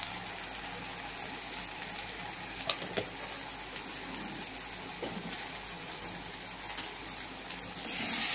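Spiced koi fish fries and sautés in hot oil, giving a steady, close sizzle with occasional light scraping taps from stirring, and no voices.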